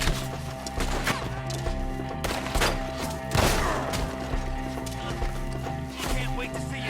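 A shootout in the video game Red Dead Redemption 2 brings sharp gunshots and heavy thuds, one loud booming blast mid-way, mixed with shouting voices and background horse sounds.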